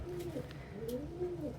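Pigeons or doves coo softly nearby in a few rolling, repeated calls over a quiet background.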